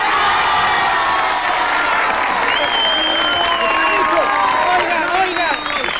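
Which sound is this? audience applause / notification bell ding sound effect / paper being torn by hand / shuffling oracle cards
audience applause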